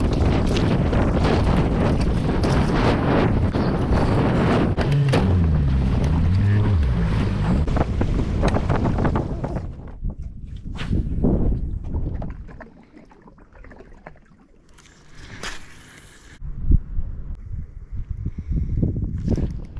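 Strong wind buffets the microphone on a small fishing boat in winter, a loud roaring rush that drops away midway, then returns in gusts alongside faint water sounds.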